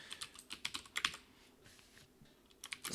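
Someone types code on a computer keyboard: quick, soft clusters of key clicks in uneven bursts, with a short pause in the middle before the typing resumes, close and fairly quiet.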